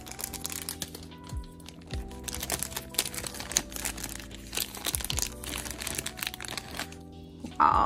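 Plastic packaging from a happy mail parcel crinkles and crunches in close, irregular bursts as it is torn open, with scattered rustling and no talk.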